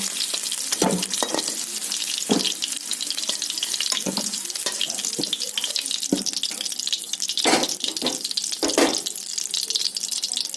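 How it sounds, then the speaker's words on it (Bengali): Potatoes fry in oil in a wok, a constant close crackling sizzle punctuated by repeated spatula scrapes and stirring clatters, fairly loud and without talk. "কড়াইতে আমি আবারও একটু তেল দিয়ে দিচ্ছি আলুটা ভেজে নেবো বলে"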